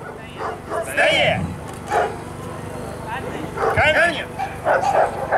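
Dogs at an obedience demonstration in Bulgaria give a few short yips and whiny barks at moderate distance over a steady low hum, with people talking softly in the background.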